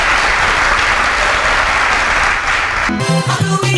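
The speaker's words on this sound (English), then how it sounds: "A round of applause for you." A studio audience claps in loud, dense applause that fills the moment up close, then cuts off as music begins at the end.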